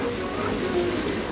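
Loud, steady sizzling of dried chilies frying in hot oil in a pan, close up and continuous.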